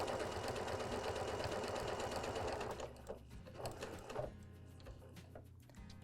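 A Janome sewing machine stitches steadily and loudly for about three seconds, then slows into a softer run of mechanical whirring with brief pauses.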